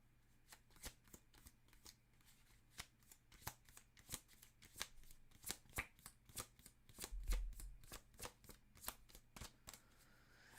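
Tarot cards being shuffled by hand, a quick string of sharp riffling bursts at an irregular rhythm, close and fairly quiet with no talk.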